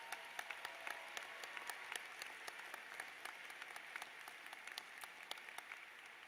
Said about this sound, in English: Let's give them a big round of applause too